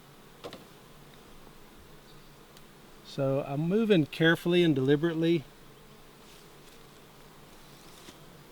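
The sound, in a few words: honey bees buzzing at an opened hive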